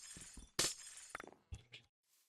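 Glass blocks breaking in a modded Minecraft-style game, several sharp shattering crashes with a tinkling tail, one loudest hit early and softer breaks after, no talking over them.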